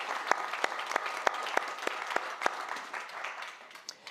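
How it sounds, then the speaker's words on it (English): Audience applause at a design talk, a moderate crowd clapping at a fairly even pace, with sharp individual claps audible before it thins out toward the end. "I wonder if we could give them a round of applause to thank them for their generosity"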